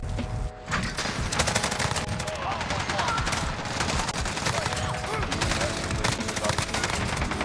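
A Bruen MK9 fires in Modern Warfare, sounding as loud, rapid automatic fire with almost no break, dense and close.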